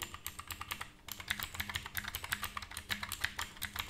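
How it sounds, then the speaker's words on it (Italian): Crisp clicking keystrokes on a Zienstar G696 mechanical keyboard with blue switches, a rapid irregular run of sharp clicks close to the mic, quiet overall with no voices. "sentiamo già dal rumore dei tasti"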